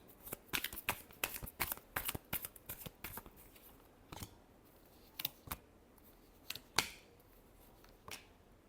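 Tarot cards being shuffled by hand in a series of sharp riffling bursts, quick and close at first, then spaced out with pauses between the last few snaps.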